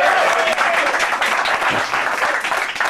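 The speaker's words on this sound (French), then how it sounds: "J'ai une porte à poster, c'est pour les applaudissements." A studio audience at a TV show taping breaks into dense, sustained applause that stays loud and even throughout.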